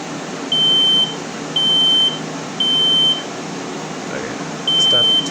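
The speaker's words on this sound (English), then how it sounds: "It's beeping." A household smoke alarm under test gives four loud, shrill beeps at a regular pace, each lasting about half a second, over a low background hum.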